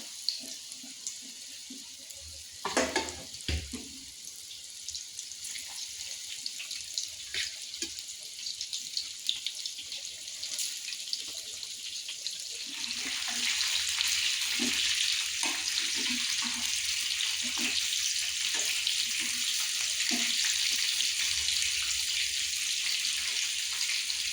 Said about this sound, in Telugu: కోట్ చేసి పెట్టుకున్న సోయా చంక్స్ వేసుకొని గోల్డెన్ కలర్ అయ్యేంత వరకు ఫ్రై చేసుకోండి